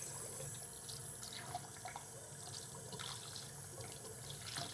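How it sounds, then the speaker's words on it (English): Tap water running into a sink while a reef aquarium is being maintained, a steady, fairly faint broadband rush with no voices. "Using sink water."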